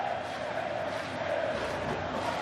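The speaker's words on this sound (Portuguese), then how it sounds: "A festa agora é da torcida do Botafogo aqui em São Januário." Botafogo supporters celebrate in the stands at São Januário stadium during a Vasco–Botafogo Campeonato Carioca match, a continuous roar of massed voices with a sustained chanting tone, heard from a distance as a broad wash of crowd noise.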